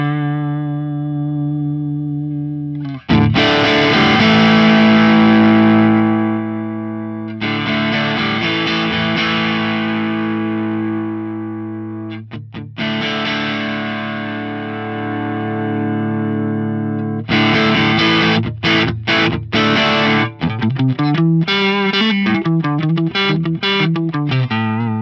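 Electric guitar played through the Marshall Blues Breaker drive model on an Axe-Fx III, with sustained distorted chords ringing out in turn, then a faster run of choppy, rhythmic picked notes, loud and close with no talking.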